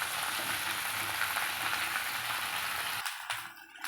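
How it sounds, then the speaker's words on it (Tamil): Okra (vendakkai) is sautéed in a pan, giving a continuous close frying sizzle for about three seconds that then drops away to quieter scraping, with no voices. "இப்போ வெண்டைக்காவை போட்டாச்சு. இது நல்லா வதக்கி எடுத்துக்கலாம்."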